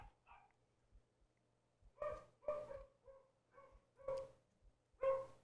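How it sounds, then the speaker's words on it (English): Two dogs bark back and forth in short, sharp bursts, several overlapping yips and woofs close to the microphone in an otherwise quiet setting. "this is two dogs barking"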